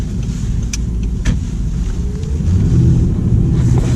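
An Audi R8 V8 sports car drives along with a low, rumbling engine note and wind buffeting from inside the cabin, building louder toward the end as it accelerates.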